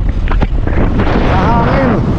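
Strong wind buffets the microphone at Haeundae beach in Busan, a steady loud rumble and roar that runs throughout the clip.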